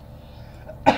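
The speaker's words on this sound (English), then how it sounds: "I had this cough for a couple days and it's pretty bad" Ends in a single short cough, loud and close against quiet room tone, from someone who has had a bad cough for a couple of days.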